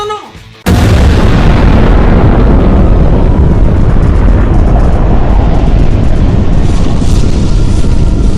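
A huge explosion sound effect erupts after a brief lead-in, a sudden deafening boom followed by a long, dense, roaring rumble that stays loud and fills the rest of the stretch.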